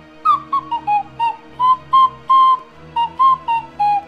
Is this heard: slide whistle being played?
yes